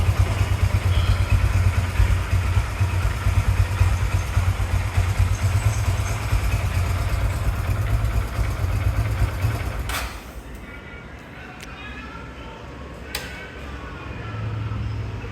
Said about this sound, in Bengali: বাইকটি আমি এখন আপনাদেরকে স্টার্ট করে দেখাবো